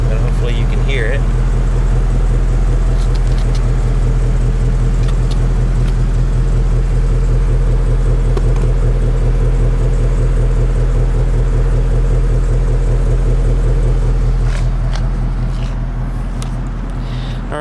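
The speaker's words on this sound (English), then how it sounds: "So this vehicle is running. It's pretty quiet when it's just idling." A 2015 Ford Mustang GT 5.0 V8 engine idles steadily with a low, even throb, fairly close, under a constant wash of background noise that eases slightly toward the end.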